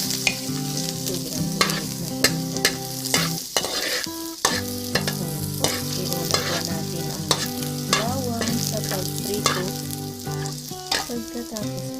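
Olive oil sizzles steadily in a pan while a utensil stirs and taps, giving a busy crackle with repeated clinks, close and continuous, and a brief quieter gap partway through, with no voices.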